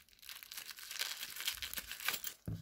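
A plastic packaging bag holding wireless lavalier mic accessories is handled and opened nearby, giving continuous crinkly rustling and crumpling with a sharper crackle near the end.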